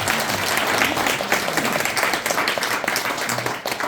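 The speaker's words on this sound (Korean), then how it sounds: "다시 한번 큰 박수 부탁드립니다" A congregation applauds steadily at a Korean Won Buddhist temple gathering, a dense wash of many hands clapping at once, sustained and fairly loud throughout with no pauses.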